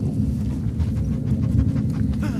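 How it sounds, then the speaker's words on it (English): A dog in The Last of Us Part II pants close and loud, rapid and steady throughout, with faint movement in the background. "And there's a dog following me as well."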